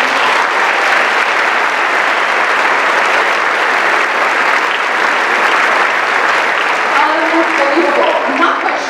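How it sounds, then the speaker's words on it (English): Loud, steady applause from a graduation audience at a university law school ceremony for the speakers on stage, sustained clapping filling the hall throughout, with a few voices faintly audible near the end. "Can we give them a round of applause?"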